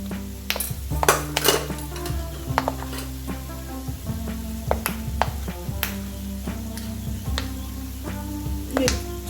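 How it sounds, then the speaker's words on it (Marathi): Food is sautéed in a pan over low heat, with a soft sizzle beneath frequent metallic clinks and scrapes of a spoon against the pan, uneven and close. "कमी गॅसवर मंद आचेवरच मी याला परतून घेत आहे"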